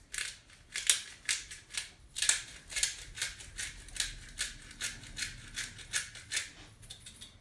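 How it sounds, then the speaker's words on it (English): A pepper grinder cranks over a pot of German potato soup, its rhythmic ratcheting grinds coming in a quick, even series of close, crisp bursts with no voice. "Just put a bit of salt, a bit of pepper on a little grind"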